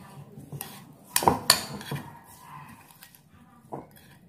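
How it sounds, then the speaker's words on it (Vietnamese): Seasonings for steamed chicken are mixed in a bowl, heard as a few sharp spoon-on-bowl clinks and scrapes, close and moderately loud, with quiet gaps between them and no voices. "rồi mình trộn đều gia vị lại này"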